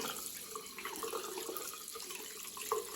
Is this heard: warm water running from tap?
yes